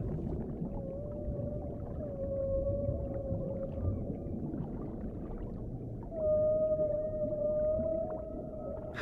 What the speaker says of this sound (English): All the whales in each ocean sing the same song.